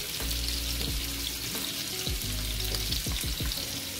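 Salmon seared briefly in a pan hisses loudly and steadily up close, with a few scraping and clinking bursts over the constant sizzle; no one speaks.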